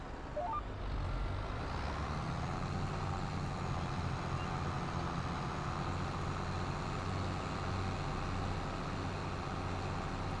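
A truck in Farming Simulator 22 rumbles past at steady volume, its engine drone broad and continuous for about ten seconds, with a faint reversing-style beep early on.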